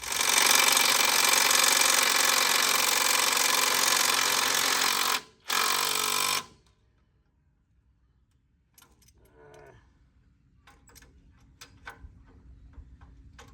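A DeWalt impact wrench loosens old, worn nuts: a loud, dense mechanical rattle runs continuously for about five seconds, breaks off briefly, resumes for a second burst, then stops, leaving near silence with faint scattered clicks.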